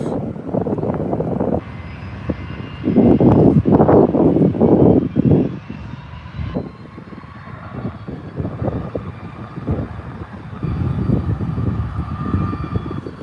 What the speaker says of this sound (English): Second Virgin aircraft is now lining up.